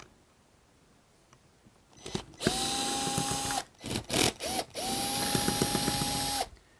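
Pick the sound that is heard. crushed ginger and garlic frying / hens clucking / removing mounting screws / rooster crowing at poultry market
removing mounting screws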